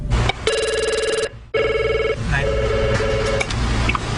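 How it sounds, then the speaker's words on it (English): A telephone in a pizzeria in Five Nights at Freddy's rings in repeated electronic trilling bursts, loud and close, with a short gap between rings and faint background noise. "the phone seems to never stop ringing"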